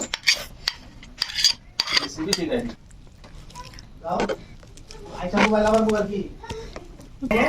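A spoon clinks and scrapes against a bowl as egg is stirred in with paneer, the metallic taps and rattles irregular and close, while people talk over it.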